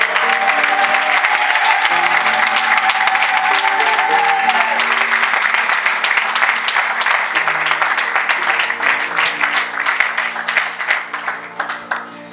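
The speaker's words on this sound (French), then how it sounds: "Alors donne une acclamation à Jésus-Christ." A church congregation applauds and cheers loudly for Jesus Christ during a sermon on divine restoration. Dense clapping runs throughout over sustained music and gradually thins toward the end.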